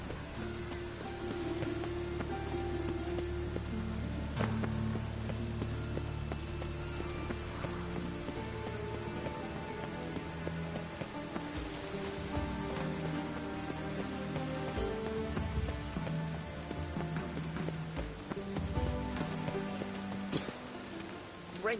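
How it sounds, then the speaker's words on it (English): Heavy rain pours down steadily in a continuous, dense hiss with drops drumming on surfaces, layered under a low background score that swells and fades, with no talking throughout. "It's raining buckets."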